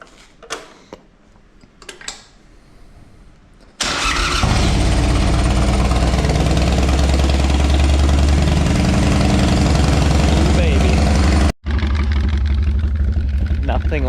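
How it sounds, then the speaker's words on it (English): Motorbike engine on a farm firing up after some quiet handling noises, then settling into a loud, steady, close idle with a brief cut before it runs on; a voice is heard at the start. "We're gonna take the bike. See if she fires up."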